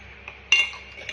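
A utensil mixes egg with salt in a bowl, giving a single sharp clink followed by a brief scrape, close and fairly quiet in a still kitchen.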